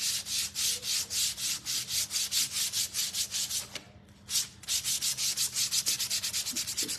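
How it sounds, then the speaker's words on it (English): Sandpaper lightly rubbed over a painted wooden Valentine's Day door hanger, a close, steady run of rhythmic back-and-forth scratchy strokes with one brief pause midway. "we're gonna lightly sand with our sandpaper"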